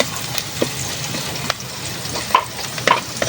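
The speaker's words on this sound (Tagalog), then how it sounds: "Sibuyas bawang na ginigisa." Onion and garlic sizzle steadily in a hot pan, with scattered scraping stir strokes and small pops over the constant frying hiss, heard close and alone.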